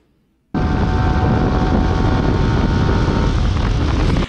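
A 2024 Yamaha R15 150cc motorcycle cruises in fourth gear at about 90 km/h, a loud, steady engine drone heavily buffeted by rushing wind that cuts in abruptly after a brief quiet moment, with no talk.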